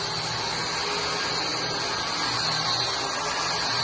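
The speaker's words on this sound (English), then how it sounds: "sanding all the veranda area" Steady, continuous sanding of wood on a veranda in a Brazilian apartment renovation, a dense hiss-like abrasive noise at moderate level with no pauses and no talking.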